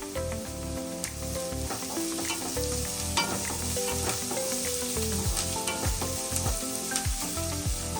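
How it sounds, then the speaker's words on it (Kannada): Ginger garlic paste sizzles and fries in a pan over a low flame, a steady close crackle with occasional stirring scrapes and no talking. "ಶುಂಠಿ ಬೆಳ್ಳುಳ್ಳಿದು ಹಸಿ ಸ್ಮೆಲ್ ಹೋಗೋ ತನಕ ಫ್ರೈ ಮಾಡ್ಕೋಬೇಕು."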